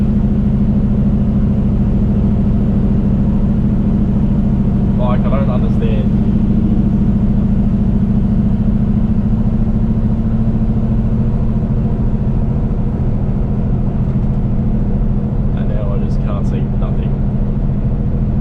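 A Kenworth truck pulling a loaded double trailer gives off a steady low engine drone inside the cab. Someone talks briefly over the constant rumble.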